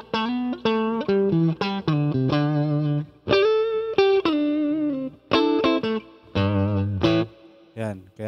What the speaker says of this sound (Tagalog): Pag pinindot ko tong tone knob, nagsisingle coil yung neck pickup.